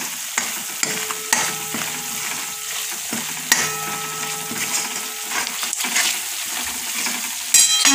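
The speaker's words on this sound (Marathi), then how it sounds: "छान मसाला आपण हा तळून घ्यायचा आहे" Masala with chili powder, onion-garlic spice mix and turmeric frying and being stirred in a pan, a steady close sizzle with scraping strokes of a spoon throughout, no talking.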